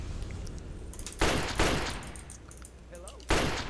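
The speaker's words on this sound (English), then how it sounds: "the Billy Silo Arm is actually a very unique weapon, because it can actually fire as fast as you press the button" Shots from the Billy Silo Arm weapon in Fallout 3, three sharp, loud blasts at irregular intervals with a reverberant tail over a low background hum.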